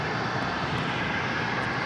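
An American Airlines Boeing 787-8 Dreamliner arriving from Miami at LAX roars in a steady, loud, dense engine rush that holds even across the brief moment, with no talk.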